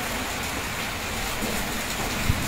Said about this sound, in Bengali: এখানে তো প্রচুর পরিমাণ বৃষ্টি